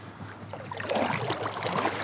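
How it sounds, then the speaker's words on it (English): Canoe or kayak paddling upstream on a river during a fishing trip, with soft, steady water swishes and splashes from the paddle close by, and no talking. "I'm going to keep paddling my way upstream"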